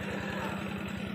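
A farm tractor engine running in a village field in Kuningan, a low, quick rhythmic chugging at steady idle, fairly faint and with no voices.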